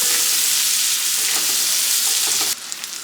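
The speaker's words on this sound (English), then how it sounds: "put your garlic in here. You're gonna stir your garlic for a little bit." Garlic sizzling loudly in a pan while being stirred for honey butter garlic salmon, a dense continuous close hiss that drops suddenly near the end.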